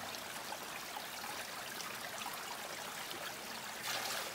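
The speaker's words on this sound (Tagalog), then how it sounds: "Ito yung tubig ano namin. Bukal." Natural spring water in a rural province, flowing and trickling continuously at close range with a brief louder gush near the end.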